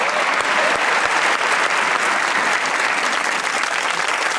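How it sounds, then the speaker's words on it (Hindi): Loud, sustained applause from a comedy show studio audience, dense clapping filling the whole stretch without a break. "ताली होनी चाहिए"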